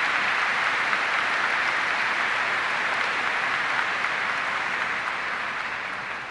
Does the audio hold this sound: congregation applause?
yes